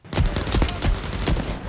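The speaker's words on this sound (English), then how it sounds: "well tell him to stop shooting then" Rapid gunfire in Overkill's The Walking Dead, a dense string of loud, close shots firing in quick succession for nearly two seconds, alone without talk.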